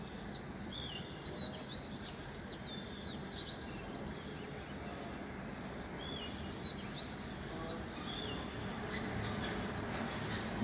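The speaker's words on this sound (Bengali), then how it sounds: "একটু পাখির শব্দটা শুনেন খুবই ভালো লাগবে" Birds chirp at dawn at around five in the morning, scattered short calls over a constant low rumbling background noise, fairly faint and at a distance, with no one talking.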